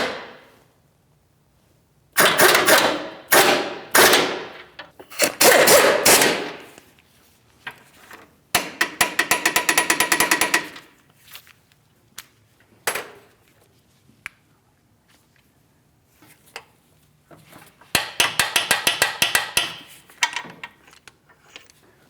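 A torque wrench tightens the control arm hardware on a 2016-2025 Chevrolet Malibu. Bursts of rapid ratcheting clicks come up close and loud, broken by pauses, single metallic ticks and a final fast clicking run.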